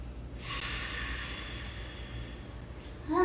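Slow, deep Ujjayi yoga breathing: one long, steady, breathy exhale with a soft throaty hiss, close and fairly quiet, ending with a short catch of air.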